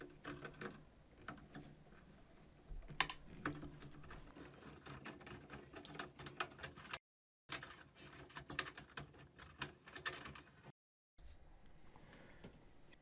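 A screw is taken out of the graphics support card panel of an HP Envy TE01 desktop computer. Dense, rapid mechanical ticking and clicking runs close up almost throughout, broken by two short silent gaps.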